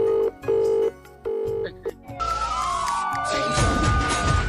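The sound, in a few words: telephone dialing and ringing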